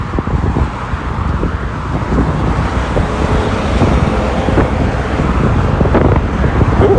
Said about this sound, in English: it is breezy up here